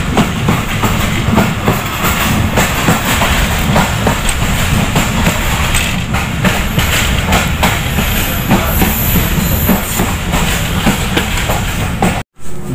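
A passenger train travelling from Sialkot toward Karachi rumbles loudly and continuously on the rails, with rhythmic wheel clatter and a steady hiss heard from inside the carriage, without speech.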